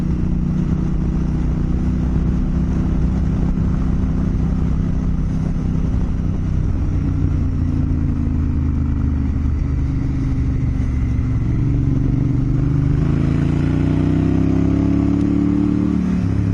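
A motorcycle rides along a road, its engine droning continuously and loud with wind rush, the pitch shifting as it accelerates and changes gear near the end.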